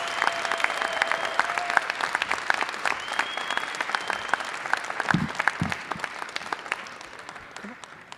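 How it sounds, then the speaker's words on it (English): An audience at a live civic event in Akron claps steadily in a sustained round of applause. Scattered sharp claps stand out over the crowd noise, which gradually thins toward the end. "Let's greet them with a resounding round of applause."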